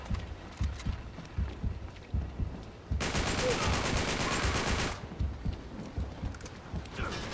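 Sustained rapid automatic gunfire in Uncharted 3: Drake's Deception, a dense two-second burst standing out from quieter thumping game noise and faint talk.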